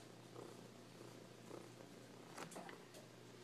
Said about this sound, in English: You hear that purring?